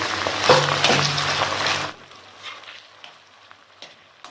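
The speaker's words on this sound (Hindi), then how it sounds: "ये इसके अंदर ऐड करेंगे और अभी से फ्राई करेंगे हम इसके अंदर" Half a kilo of chicken keema going into a hot karahi: a loud, dense sizzle for about two seconds that then drops to a faint crackle with a few scattered ticks.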